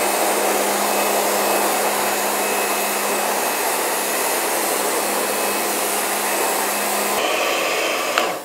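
Karcher K2 Full Control home power washer spraying brickwork, a loud, steady rushing hiss with the pump's hum running continuously and close, then cutting off near the end.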